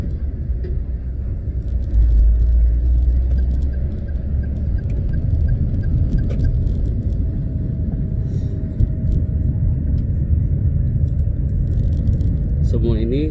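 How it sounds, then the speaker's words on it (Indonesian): Congested road traffic heading toward Jakarta in the morning, a steady low engine rumble of idling and creeping vehicles with occasional louder passes, voices talking over it. "sekarang menuju Jakarta itu macet parah ya"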